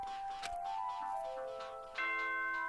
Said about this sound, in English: Ding dong bing bong.